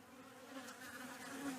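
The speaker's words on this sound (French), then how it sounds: "elle écoute le bourdonnement des insectes" Bees buzz steadily at their hives in the Hautes-Pyrénées, a low, continuous drone that is faint and even throughout, with no talk.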